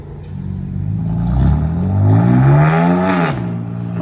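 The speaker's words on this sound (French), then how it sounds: "Oh, il a ouvert les clapets." A BMW M2 CS engine revs up loudly with exhaust valves open, a rising, rasping exhaust note that holds near its peak, then drops off sharply.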